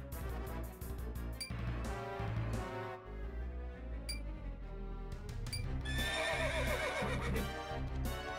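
A horse neighs in the video game Sakura Wars: So Long, My Love, a loud whinny rising over a dense, busy backing of game music and effects that runs throughout.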